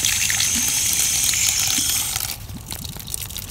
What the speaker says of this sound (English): The residual water coming out of there is what's coming from the inside of that pipe that we just replaced.